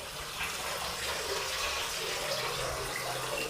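Water runs steadily from a tap, a continuous close gushing rush with no breaks and no voices.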